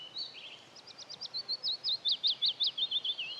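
A willow warbler sings outdoors: a clear, moderately close phrase of rapid sweet notes that slide downward, delivered alone against soft background hiss.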